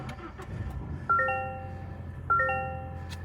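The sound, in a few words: 2024 Toyota Tacoma TRD Sport engine starting up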